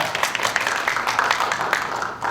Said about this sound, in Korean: 함께 우리 하나님께 감사와 영광의 박수를